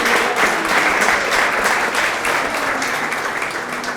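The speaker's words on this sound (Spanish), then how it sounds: "Démosles un aplauso a todos estos hermosos niños." Sustained audience applause for a group of young children at a church gathering, dense steady clapping from many hands filling the room throughout, close and loud.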